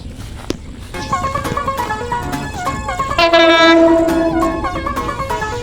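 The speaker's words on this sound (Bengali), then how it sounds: "ওখান থেকে ট্রেন আসতেছে" A train runs along a railway line in Gazipur, Bangladesh, with a steady rumble and rattle throughout, and a loud, sustained horn blast sounds near the middle before fading into the rolling noise.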